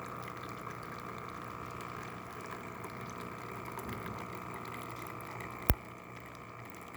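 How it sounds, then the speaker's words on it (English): DeLonghi espresso machine pumping coffee into a cup, a steady close hum with a constant liquid trickle throughout and one sharp click near the end. "Nice steady stream coming out of the machine."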